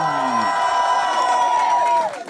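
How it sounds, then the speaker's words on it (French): A crowd at a contest cheers and shouts for a finalist, with sustained whoops and raised voices carrying over faint clapping before the noise drops off at the end. "vous pouvez commencer à l'applaudir, Monsieur Hugo Dufar,"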